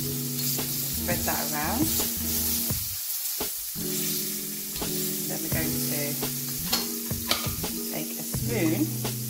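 Butter sizzles loudly on a hot griddle pan, a continuous close crackle broken by occasional scraping as it is spread around, with a brief voice and background music.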